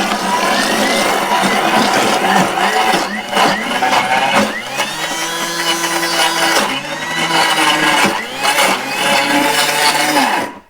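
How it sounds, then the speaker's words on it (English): Blender whirring loudly for around ten seconds as it purées an ice cream mixture, its steady motor drone changing in pitch a few times while the blades churn. "we'll blend for the last 30 seconds, and it probably won't take all this time"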